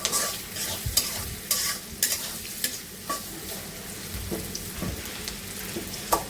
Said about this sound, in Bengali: কাঁচামরিচ আর পেঁয়াজটা একটু লাল লাল করে নেব